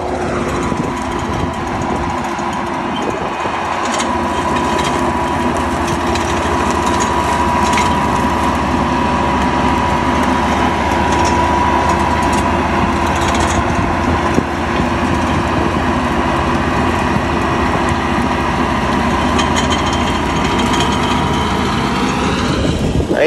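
A tractor engine runs loud and close with its PTO shaft engaged, a steady droning rumble held at raised idle throughout, and its pitch rises right at the end.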